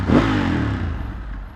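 A car engine revs in a single short burst, a loud low roar that swells quickly and then fades away over about a second and a half.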